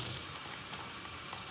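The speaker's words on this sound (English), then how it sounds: "I'm filling this bag up with water." Tap water pours into a plastic bag with a brief, steady hiss and rush, close by and quiet.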